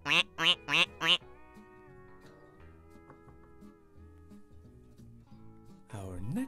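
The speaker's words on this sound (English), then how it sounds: "There's the duck with its little ducklings." A duck with its ducklings quacks four times in quick succession, loud and close, followed by a long stretch of soft background music and a voice at the end.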